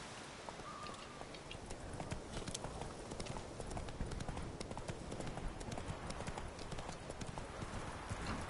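Hooves of the horse Roach clip-clop in The Witcher 3, a steady rhythmic walking gait of many hoof falls, faint under a dense ambient game soundscape with a quiet voice at points.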